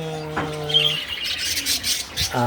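Pet parakeets squawk and chirp in short, scratchy calls near the microphone, mixed with a few tonal, whistle-like notes.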